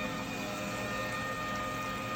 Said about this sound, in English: as soon as the machine knows that there's water coming in, it's going.